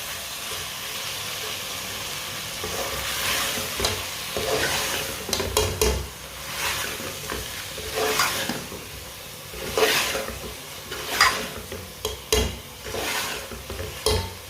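Aloo palak with spices being stirred in a frying pan, a spoon scraping and turning the mixture in repeated strokes over a steady close sizzle.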